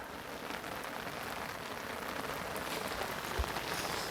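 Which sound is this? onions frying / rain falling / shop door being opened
rain falling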